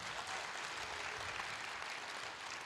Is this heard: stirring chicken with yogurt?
no